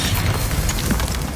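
Descendo spell cast in a Harry Potter video game, a dense rumbling burst of magical impact that holds loud and steady through the moment without any talk.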